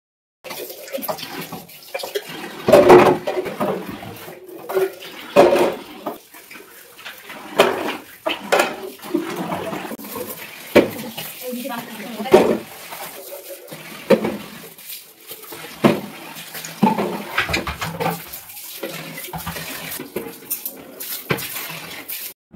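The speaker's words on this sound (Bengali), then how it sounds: "এই ডিবেগুলোকে মেজে ধুয়ে নেবো" Kitchen storage containers are scrubbed and rinsed under running water in a small home kitchen, with repeated bursts of splashing, rubbing and hollow knocks of the containers. A dog whimpers intermittently nearby.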